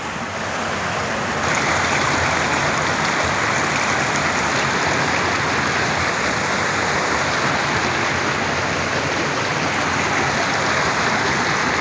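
Armutlu stream in Kemalpaşa rushes steadily over its bed, a loud, continuous wash of flowing water heard close up with no voices.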